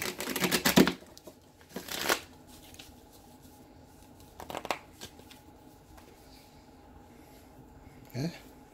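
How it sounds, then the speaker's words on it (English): Several quick bursts of riffling tarot card shuffles, separated by pauses with faint background noise and occasional soft rustles. "I'm shuffling with 9 fingers here."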